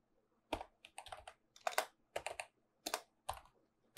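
Commands are typed on a computer keyboard while installing SSL for Apache on Debian, with crisp, close key clicks in quick irregular bursts and short pauses between them.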